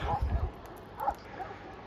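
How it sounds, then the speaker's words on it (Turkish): Several dogs on a hilltop bark in a few short, distant bursts while someone talks over them nearby. "Köpekler çok avlıyordu oraya"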